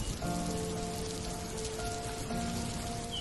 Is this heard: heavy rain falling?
yes